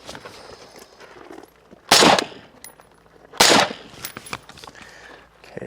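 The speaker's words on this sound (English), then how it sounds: "We're gonna go ahead and shoot those 2 initial shots." Two loud suppressed 5.56 rifle shots through a Shadow Systems Penta suppressor, spaced about a second and a half apart, each a sharp broadband crack with a brief tail, over quiet outdoor background.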